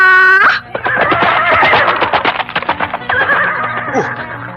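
A horse whinnies loudly up close, and a rapid run of hoofbeats follows on the ground, with a shorter second neigh near the end.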